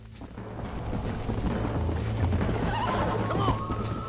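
A horse in a cowboy video game whinnies and clip-clops steadily at close range, with mechanical clicking and faint talk underneath.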